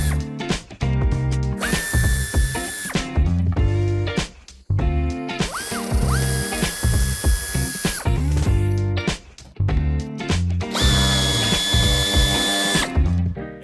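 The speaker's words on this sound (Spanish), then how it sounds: "soltaremos estos 3 tornillos que tenemos de forma visible y un cuarto que tenemos en la esquina" Power tool backing screws out of the wheel arch of a 2019 Audi A6 Allroad, three loud, close bursts of whining motor, each running a couple of seconds with short pauses between.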